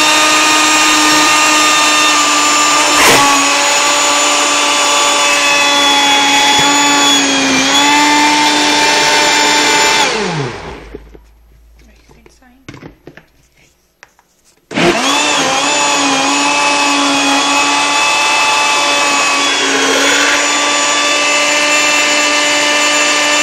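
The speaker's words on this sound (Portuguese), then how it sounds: "Depois que você bater o creme de leite, o leite condensado e o iogurte natural" A blender loudly whirs a mousse mixture of cream, condensed milk, natural yogurt and juice. The steady motor drone cuts off for a few seconds, then starts again and runs on, close and with no talking.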